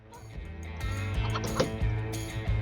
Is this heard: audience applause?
no